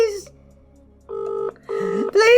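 A telephone ringback tone repeats twice in steady pulses, with a short voice at the start and a rising voice cutting in near the end.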